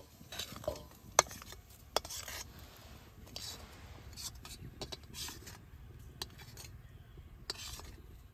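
Puffed rice is stirred into cooked jaggery, giving soft, irregular rustling and scraping with a few sharp clicks, quiet and close, while a person speaks.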